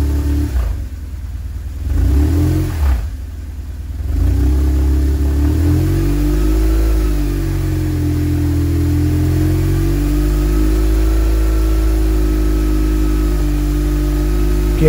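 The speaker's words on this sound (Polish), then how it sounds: "Teraz pomiar przy 3000 obrotów." A BMW R 1150 GS motorcycle engine runs steadily at about 3000 rpm, a loud, close, continuous drone that dips briefly early on before settling into an even, sustained hum.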